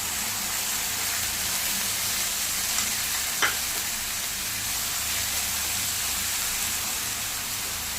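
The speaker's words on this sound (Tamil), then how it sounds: "தக்காளி நல்லா வதங்கணும்" Ground tomatoes fry for egg masala in a pan with a loud, even, hissing sizzle up close, broken once by a single brief clink of a utensil; no one speaks.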